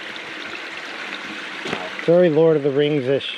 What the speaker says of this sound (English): it's like a perfect little brook